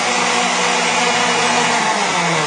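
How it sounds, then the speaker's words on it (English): A blender runs steadily while juicing dandelion and parsley, a loud, constant motor whir that holds unbroken throughout with no voices. "Get your blender going."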